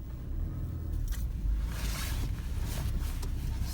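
A 2012 Peugeot 508 pulls away on a test drive, a steady low engine rumble and road hum filling the cabin, with a slight swell as it gets moving.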